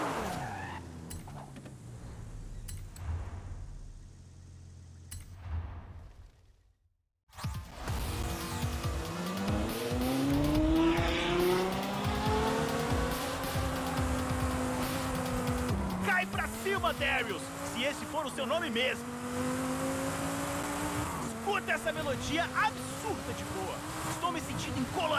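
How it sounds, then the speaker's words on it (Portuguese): Racing cars in the video game Forza Horizon roar and rev loudly, with repeated tire squeals and skids as they corner. A brief silent gap comes early, then the engines and screeching carry on with a voice heard at times. "E muitos motores trovejantes."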